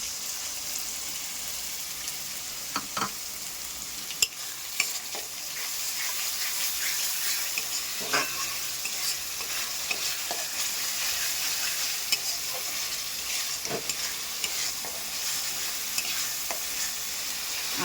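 Ginger paste sizzles in oil with fried onions while a utensil stirs and scrapes the pan, a steady close frying hiss with scattered clinks over about eighteen seconds.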